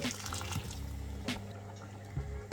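Hot water pours steadily into a vadai curry in a continuous splashing stream, with a couple of brief clunks of a pot or pan along the way.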